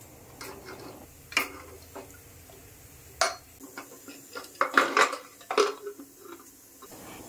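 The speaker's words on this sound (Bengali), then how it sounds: "একদিকে প্রেশার কুকারের ঢাকা বন্ধ করলাম, মানে সিটি মারার জন্য দিলাম" A pressure cooker lid being fitted and closed, giving several sharp metallic clicks and clanks spaced over several seconds, with a cluster of louder knocks toward the end and quiet kitchen background between them.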